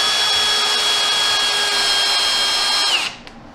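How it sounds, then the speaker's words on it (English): Power drill driving a screw at an angle through a wooden board, a loud steady high whine held for about three seconds before spinning down abruptly and stopping. "When you're driving screws in to go through an angle on a board, it helps to start them straight in and then turn them in the direction you want to go"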